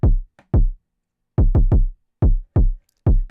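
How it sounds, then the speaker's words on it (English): A deep, punchy kick drum hits repeatedly in a loose rhythm, each thump loud and booming with a short decay, nothing else playing. "all I did is start with the kick, which sounds like this."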